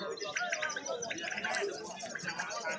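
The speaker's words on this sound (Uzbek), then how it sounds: "Ya bu zoti yaxshi kaptarlar bular." Pigeons and other birds at the Chorsu bird market in Khorezm chirp and coo in quick bursts amid a busy wash of crowd chatter and nearby voices.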